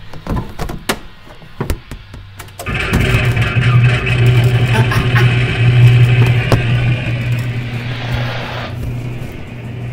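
A vehicle engine cranks and catches after some clicks and knocks, then settles into a steady, loud mid-pitched idle that runs to the end.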